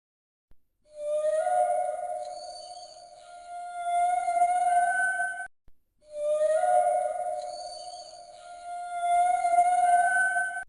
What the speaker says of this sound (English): Yes, it's an orca.